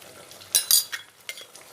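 Onion, ginger and garlic fry in a pan with dry spices as a utensil stirs them, giving a few sharp scraping bursts over a soft steady sizzle.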